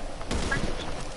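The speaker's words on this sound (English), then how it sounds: "Hey, I'm about to snipe him." A single sniper rifle shot in a video game cracks out once amid a busy, noisy game mix, with a voice faintly present in the background.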